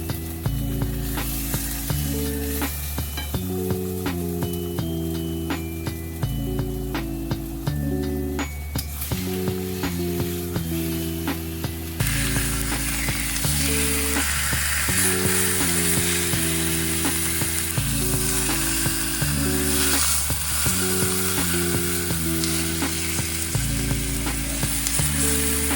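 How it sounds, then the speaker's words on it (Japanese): Food sears in olive oil in a pan, producing a loud continuous crackling sizzle that intensifies partway through, heard up close over steady background music, without any talk. "表面にほんのり焼き色がつく程度に焼きます。"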